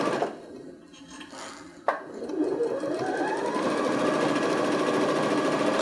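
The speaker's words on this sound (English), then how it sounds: "we want to be sure and back stitch at the front and back" A sewing machine back stitching the seam of a lined bag: a short run, a brief pause and a sharp clack, then a steady, close whirring stitch that keeps going to the end.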